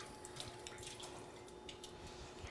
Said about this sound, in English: I'm just going to rinse this just a touch